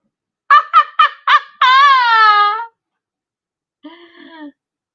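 A toy or picture-book chicken sound plays four short clucks followed by a long electronic squawk, then a fainter tone after a pause; loud and close.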